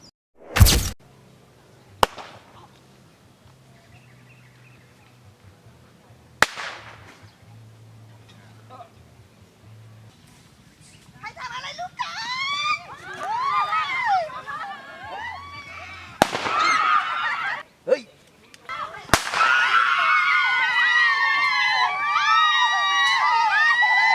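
Gunshots in a Thai drama: sharp loud bangs, one near the start and others scattered later, amid tense dialogue, followed by shouting and commotion that builds toward the end.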